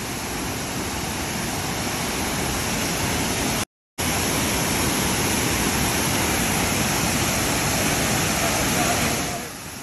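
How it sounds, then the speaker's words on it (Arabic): Martin Brod waterfall on the Una river in the Una nature reserve, Bosnia, giving a loud, steady, broadband roar of falling water close by, broken only by a brief cut of silence. "وصلنا إلى شلال مارتن برود في محمية أونا الطبيعية."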